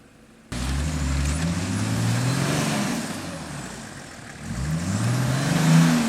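A 4WD Nissan Patrol engine revs and labours through a deep, rough bush track at 24 psi tyre pressure, loud and close, rising after a quiet start, easing in the middle, then climbing again.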